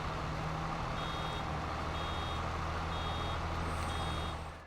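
A truck in Farming Simulator 22, on the Elk Mountain, Wyoming map, sounds its reversing alarm out in a field: four evenly spaced high beeps, about a second apart, over a steady low engine drone.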